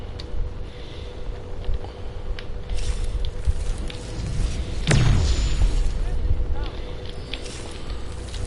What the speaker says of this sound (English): We're gonna use my big old plasma cannon that knocks people out.